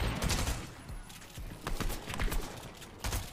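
Rapid bursts of gunfire in a video game ring out at moderate loudness as repeated sharp cracks, with a player's voice talking over them.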